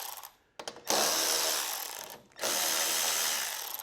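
Socket ratchet or driver loosening the two 10 mm nuts that hold the carburetor on a Troy-Bilt 2420 snow blower, heard as two loud, sustained bursts of broadband mechanical whirring, close up, with a brief gap between them.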